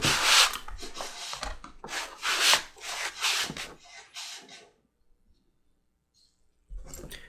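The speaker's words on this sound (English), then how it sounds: "use a canvas scrap to slick out the edges and polish up the wax from the leather balm" Canvas scrap rubbed briskly along waxed leather rifle-sling strap edges, a run of rough scuffing strokes in bursts, close and fairly loud, then a pause of near silence before another stroke.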